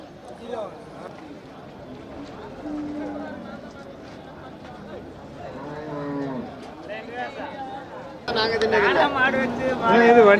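Cattle low and moo repeatedly amid a busy crowd of voices at the Manapparai cattle market in Tamil Nadu, growing louder and more crowded toward the end.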